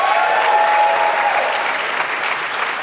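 At a PAX East live panel, a packed room breaks into a short burst of loud applause that eases slightly toward the end, with no one talking over it.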